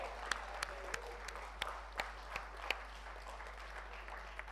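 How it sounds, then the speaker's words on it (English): Applause at a memorial programme for the master of ceremonies, a fairly faint, distant crowd clapping with a few sharper individual claps standing out over a low steady hum. "big round of applause"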